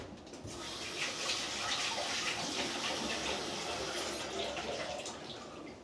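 Hands washed under a running tap, with a steady, moderately loud rush of water that runs almost the whole time and eases off near the end.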